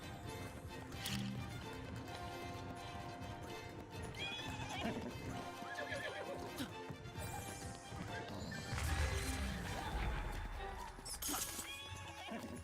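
A horse in a Zelda video game neighs and whinnies while its hooves clip-clop steadily, with crashing and splashing game effects mixed in and no talk.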